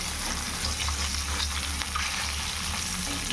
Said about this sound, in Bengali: দুটো মাছটা ভাজা হচ্ছে